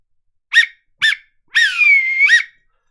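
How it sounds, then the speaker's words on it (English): Referee-style whistle blown for full time: two short sharp peeps followed by one long sustained blast, loud and close, with no talking. "Full-time whistle."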